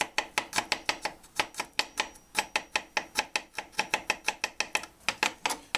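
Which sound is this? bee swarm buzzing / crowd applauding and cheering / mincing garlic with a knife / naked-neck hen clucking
mincing garlic with a knife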